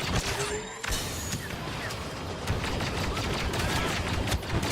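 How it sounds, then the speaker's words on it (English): Heavy explosions mixed with sustained blaster fire in modded Star Wars Battlefront II, a loud, dense wash of crashes and shots that swells toward the end. "Oh my god, look at those explosions."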